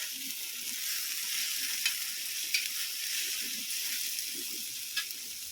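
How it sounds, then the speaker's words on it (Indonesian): Sambal chili paste frying in hot oil, a steady close sizzle and hiss with occasional sharper pops, no voices over it. "Wis pas lengone karek goreng sambele pemirsa ya gitu."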